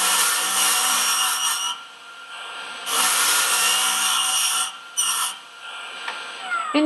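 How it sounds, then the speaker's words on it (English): 3M 80 grit radial brush spinning at full speed on a Jooltool, giving a loud, steady abrasive whir in long bursts separated by short drops in level. "Running at full speed, we'll start off with the 80 grit."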